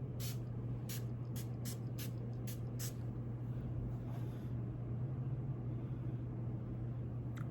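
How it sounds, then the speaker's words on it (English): Several short hissing bursts of Versali Rose Gold Skin Mist sprayed onto a face, about seven quick pumps in the first three seconds, close and crisp over a steady low hum, followed by a softer longer spray. "I'm gonna go ahead and use this Versali Rose Gold Skin Mist,"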